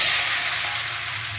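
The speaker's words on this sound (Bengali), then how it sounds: "ভালো করে নেড়ে নেব।" Vegetables frying in oil tempered with panch phoron, giving a dense, even hiss of sizzling fat, close up and steady for a brief moment.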